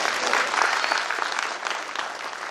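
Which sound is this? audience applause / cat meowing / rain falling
audience applause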